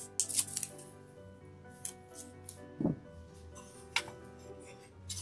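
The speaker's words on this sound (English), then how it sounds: "So, I'm just going to take a little piece of masking tape." A strip of masking tape pulled off the roll during a Dollar Tree skeleton fairy lantern craft, heard as a few quiet, separate tearing and peeling snaps with short gaps between them and no talking.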